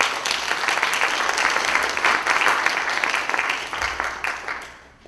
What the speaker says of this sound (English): I still think we should give her a round of applause.